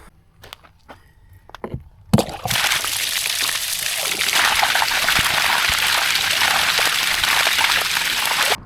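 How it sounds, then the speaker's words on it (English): Water rushes out of a tank in a steady, loud flow after a few seconds of faint handling noises, continuing strongly to the end. "so we'll let that run out, and you just kind of swish around on the bottom."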